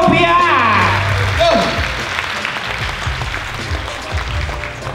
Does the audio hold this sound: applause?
yes